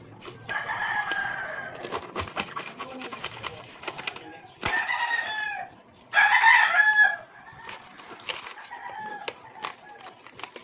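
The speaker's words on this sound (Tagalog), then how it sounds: "maingay yung manok" A rooster crows several times nearby, the loudest crow coming last, amid clucking hens and other faint farmyard noise.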